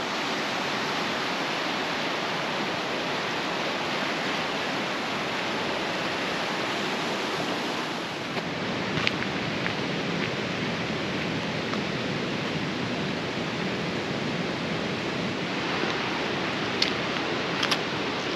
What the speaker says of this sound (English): The river that this glacier feeds is raging because it's warm.